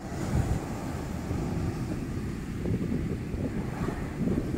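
Wind and surf roar at Alappuzha beach in Kerala, a steady, loud wash of waves and gusting wind buffeting the microphone for the whole stretch, with no voices.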